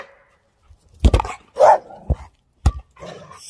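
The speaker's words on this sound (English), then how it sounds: "Sheena, you don't even know what you're barking at." A dog barks several times in short, sharp bursts at close range, with brief pauses and a soft whine between barks.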